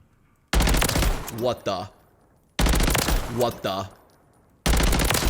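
BP-50 rifle fire in Warzone 3 comes as two long sustained bursts with a third starting at the end, loud and dense, and a voice speaks briefly during the firing.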